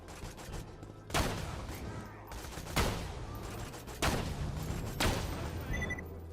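Sniper rifle shots in Borderlands during the Captain Scarlett DLC, four or five sharp, loud cracks spaced about a second apart, each trailing off over a low game ambience.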